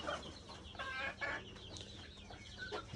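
Chickens on a poultry farm, including beak-trimmed birds pecking at one another, cluck in a steady close chorus over a low farm hum, with a few louder squawks standing out.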